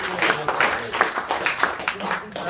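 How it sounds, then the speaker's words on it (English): A wedding crowd applauds in a brief, scattered round of clapping, a voice talking over it. "can we give her a round of applause"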